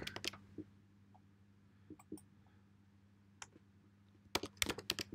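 Mouse clicks in diagramming software come as scattered sharp taps up close, a few isolated ones early and then a quick burst of clicks near the end, with no talk.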